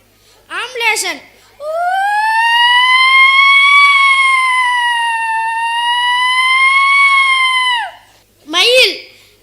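A child at a school competition imitates an ambulance siren with one long, steady, wailing vocal tone lasting several seconds, loud and close, with brief vocal calls before and after.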